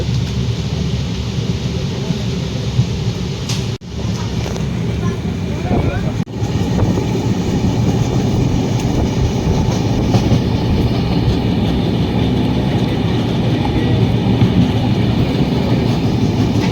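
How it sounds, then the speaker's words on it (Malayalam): Steady loud rumble and rattle from inside an S4 sleeper compartment of a moving train bound toward Rameswaram, with continuous wheel and carriage noise throughout and faint voices underneath. "ഞങ്ങളിങ്ങനെ ട്രെയിനിൽ പോയിക്കൊണ്ടിരിക്കുകയാണ്."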